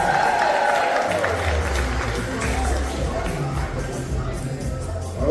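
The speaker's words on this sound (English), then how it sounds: "Give her a round of applause." A theater audience applauds a newly introduced model at an older persons' talent and fashion show, a steady dense wash of clapping and crowd noise holding for several seconds with a slight swell at the end.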